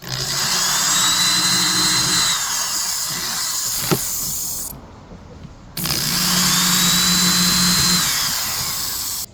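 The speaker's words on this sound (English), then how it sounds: "So I'm going to pre-drill some holes." A power drill whirs loudly in two bursts with a short pause between, its motor pitch shifting as it bites into material while pre-drilling holes.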